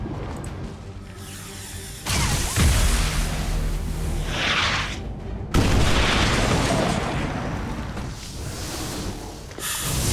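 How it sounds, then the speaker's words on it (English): Rifle fire in XCOM 2: War of the Chosen, loud booming shots with whooshing tails over a dense, continuous game soundscape, with a sharp burst near the middle. "Ooh, that's a nice rifle sound."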